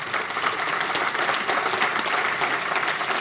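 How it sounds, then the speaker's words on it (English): Audience applause at a software developer conference talk, a steady dense wash of many hands clapping throughout, fairly loud and close, with no talking over it. "Now you can clap."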